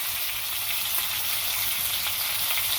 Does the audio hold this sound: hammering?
no